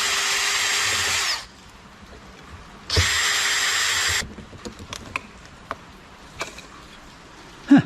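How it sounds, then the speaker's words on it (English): A power drill backs screws out of a Motorola warehouse data entry device in two close, high-pitched whirring bursts of about a second each, followed by scattered clicks and clatters of small hardware and handling. "And once again, we're unscrewing things."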